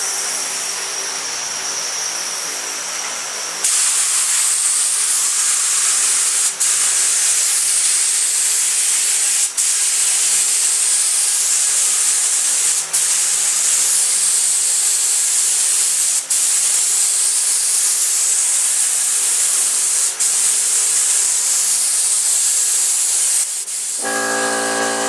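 A spray gun lays clear coat onto a car in a home garage, a loud, steady airy hiss running almost without a break, broken by a few short pauses and a quieter stretch at the start.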